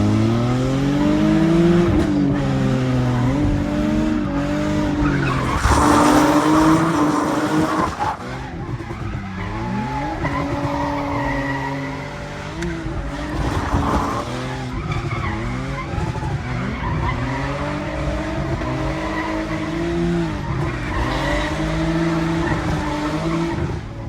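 Cars tandem drifting on a wet track in the rain, engines revving hard with repeated long tire squeals and skids, loud and continuous with cars passing close.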